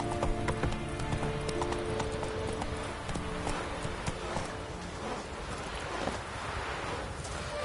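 Horse hooves clip-clop at a steady walking rhythm in The Witcher 3: Wild Hunt, close and continuous, with wind and game ambience underneath.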